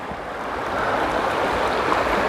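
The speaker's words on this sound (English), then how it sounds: "I've come to a river that I've got to try to find a way across." A river on the Appalachian Trail rushes steadily, a dense, continuous wash of flowing water heard close and loud with no voices over it.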